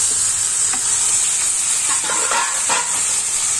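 Boiled chana dal and amaranth stalks tip into a hot frying pan, giving a steady loud sizzle with hissing steam and soft scraping and stirring clatter throughout.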